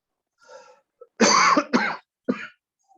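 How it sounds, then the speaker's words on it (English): A person coughs several times in quick succession, loud and close, with a short throat-clearing sound before the main bursts. "Damn it, here goes my cough."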